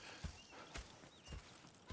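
Horse hooves clip-clop in Red Dead Redemption 2, four soft, evenly spaced strikes at a walking pace, faint and distant over a quiet background.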